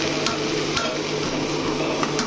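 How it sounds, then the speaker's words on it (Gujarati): Potatoes being tempered in a hot pan give a steady, dense sizzle with occasional stirring clicks from a utensil, close up and without talk. "મકાન તો બટેકાનો વઘાર કરી લીધો,"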